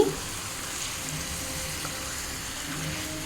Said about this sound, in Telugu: ముందుగా కలిపి పెట్టుకున్న చికెన్ని వేస్తున్నాను చికెన్ వేసి బాగా కలపాలి